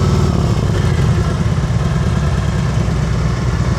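A motorcycle engine runs steadily during a slow-speed riding practice session in North Carolina, a continuous low, close rumble at low revs with a slight rhythmic pulse and no breaks.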